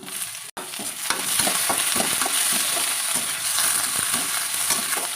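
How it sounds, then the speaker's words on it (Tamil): Tomatoes frying with browned onions and green chilies for spicy egg kulambu, a loud continuous sizzle with repeated spoon stirring scrapes, briefly cut off near the start, then steady to the end. "வெங்காயம் இந்த மாதிரி கலர் மாறி வந்த உடனே நம்ம தக்காளி போட்டு நல்லா ஃப்ரை பண்ணிக்கலாம்"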